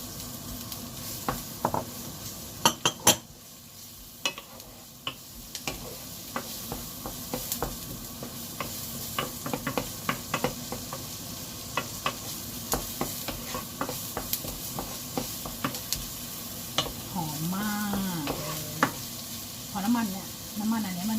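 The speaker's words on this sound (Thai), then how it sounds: "ใส่ ไส้กรอกลงไปเลยค่ะใส่ไส้กรอกลงไปได้เลยนะ" Sausage frying with shallots in a pan, a steady close sizzle with repeated sharp clicks of a utensil stirring against the pan, and a voice speaking briefly near the end.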